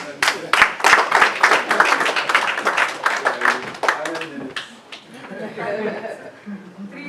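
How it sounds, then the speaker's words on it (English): An audience applauds a speaker with loud, dense clapping at first that tapers over several seconds, with some laughter and chatter mixed in and a voice speaking as it fades. "Please give him a round of applause"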